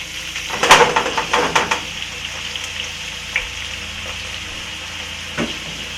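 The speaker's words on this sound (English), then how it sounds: "Sauteing the garlic, and then I'm going to put my yams in." Garlic sizzles in hot grapeseed oil in a pan, a sharp burst of frying as it is stirred near the start, then settling into a quieter steady sizzle with a couple of light clinks.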